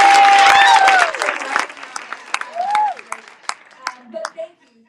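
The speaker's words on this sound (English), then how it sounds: "Can I get a round of applause for Christy's suit?" A burst of audience applause at a college district special announcement event, with a loud whistle up front, then the clapping thins into scattered, fading claps.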